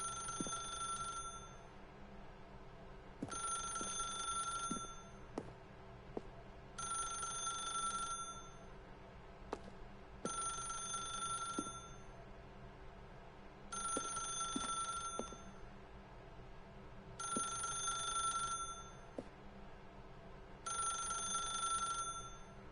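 A telephone ringing in The Stanley Parable, a steady repeating ring in even bursts with short pauses between, about seven rings, clear and alone with no talk.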